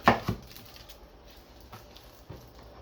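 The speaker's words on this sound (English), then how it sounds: "I'm gonna take down this onion. I'm gonna cut it in half" A knife cutting an onion in half on a cutting board, two sharp close taps at the start followed by a few softer knocks against a quiet kitchen background.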